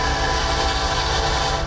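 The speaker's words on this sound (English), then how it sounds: "The sound of the oncoming train" Train approaching and rolling through Gastonia, a loud, continuous rumble of rail cars with a steady tonal horn-like hum running through it, close by and with no talking.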